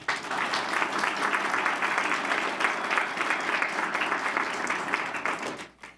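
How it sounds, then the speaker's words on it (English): A crowd at a school board meeting claps for TSA state winners from Parkland Middle School, dense steady applause that holds for several seconds before cutting off abruptly. "please give a big round of applause to each of our TSA state winners from Parkland Middle School"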